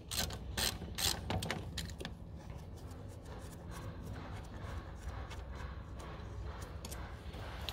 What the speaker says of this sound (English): just use a 17mm spanner, just put that on the back just to hold it while you wind it out